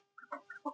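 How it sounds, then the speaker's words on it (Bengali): Chickens on a small farm cluck in three short bursts, close and clear, with quiet pauses between. "এই যে আমার উল্লক মুরগিগুলা"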